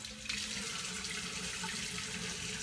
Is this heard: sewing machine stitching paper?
no